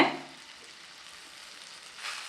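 Boiled plantain slices roasting in a pan over a low flame give a soft, steady sizzle, with a brief louder burst at the start and a slight swell near the end; no one speaks.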